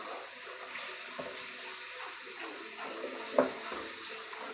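A little water splashes and pours into a pan of drumstick curry being made with buttermilk and roasted flour, a continuous close gurgle with one brief sharper splash near the end.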